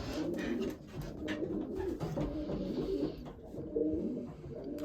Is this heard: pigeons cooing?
yes